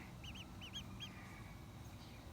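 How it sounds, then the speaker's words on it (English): A pet duck gives a short run of nasal quacks in quick pairs, close and clear, over a steady low background hum, then falls quiet. "this is our little duck."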